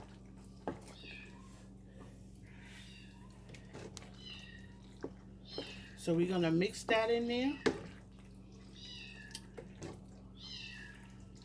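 A kitten meows a few times in the middle, high plaintive cries heard alongside a person talking and faint kitchen sounds.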